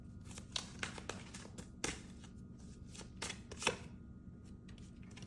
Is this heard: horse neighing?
no